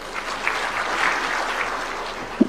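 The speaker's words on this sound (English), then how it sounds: "the audience also welcome that with a clap" Brief burst of audience clapping at a Murang'a investment conference to welcome a council member, a soft, diffuse patter of many hands heard from some distance, with a single louder thump near the end.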